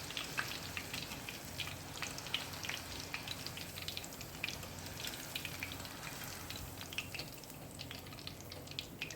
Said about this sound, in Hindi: अब यहाँ पे हरी मिर्च हम फ्राई कर लेंगे।